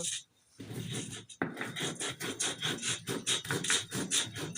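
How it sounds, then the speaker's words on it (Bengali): Pumpkin bori paste mixed with onion juice is ground by hand in a series of rhythmic rasping, rubbing strokes. The strokes are close and even, coming in quick succession after a brief pause. "ঠিক এভাবে আমি সুন্দরভাবে বেটে নেব।"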